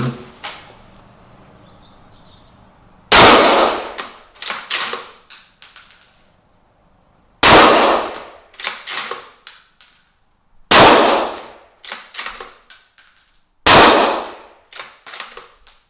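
Mauser M12 rifle fired four times outdoors, each loud sharp report at about three-second intervals followed by metallic clanks of the bolt action being cycled, with no talking.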